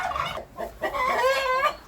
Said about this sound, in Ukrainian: кури кричать